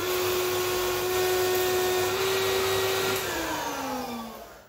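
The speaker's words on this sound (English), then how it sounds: "I think I'll give this a quick hoover out" A vacuum cleaner hoovers out a car's floor carpet, droning loud and steady with a constant motor whine that shifts pitch slightly partway through, then drops lower near the end.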